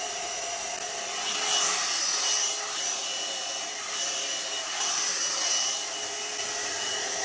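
A hair dryer blows steadily on hair, a loud, close, continuous airy whoosh with a high whine that swells and dips slightly as it moves.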